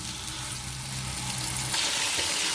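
Pieces of meat frying in hot oil for hareesa make a continuous loud sizzle, swelling into a harsher, brighter hiss partway through as the pan is stirred.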